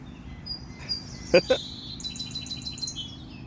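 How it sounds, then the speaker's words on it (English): A wild bird perched on a pole a few feet away gives two sharp, loud chirps, then a softer twittering trill against faint outdoor background. "check out this bird here, guys. Oh, the bird landed on this pole, like literally just a few feet away from me"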